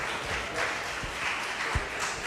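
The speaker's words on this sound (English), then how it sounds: "Let's give another round of applause to the Murphy family." A crowd in council chambers at a municipal council meeting claps steadily in a dense, continuous wash of applause, with a few louder thumps, and no voices rise above it.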